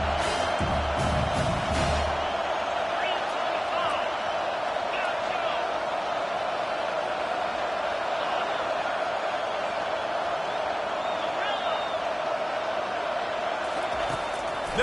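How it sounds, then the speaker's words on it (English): A football stadium crowd roars steadily behind the defense on third down, a dense, sustained wall of cheering that holds loud and unbroken throughout. "Decibels rising as the crowd gets behind this defense on 3rd down."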